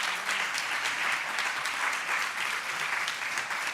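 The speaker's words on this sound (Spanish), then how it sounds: "En Ferran, li podem fer un aplaudiment també?" A congress audience applauding together, dense steady clapping from a large crowd, sustained and even throughout without speech over it.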